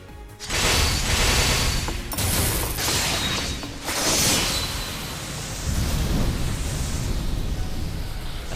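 A clash of magic bullets and lightning blades in a video game, loud crackling bursts and rumbling surges that swell and ebb in several waves, with no voices.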